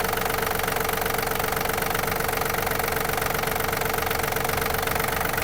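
A Yanmar AF-324 mini tractor diesel engine runs at a steady idle close by, with a continuous rapid knocking clatter and no talk over it.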